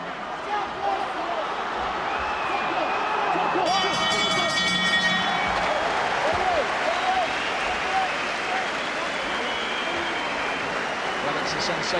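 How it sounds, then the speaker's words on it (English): A boxing arena crowd roars, cheers and applauds throughout a fight featuring Chris Eubank, with a dense, sustained wall of noise and scattered whistles. Commentary runs over the top. "the crowd appreciating this work from Eubank, shouting out his name."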